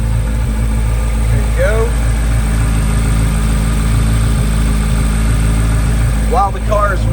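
A Chevrolet C8 Corvette Z06 idles with its rear hatch open, a steady low rumble close by, while someone speaks briefly over it near the end.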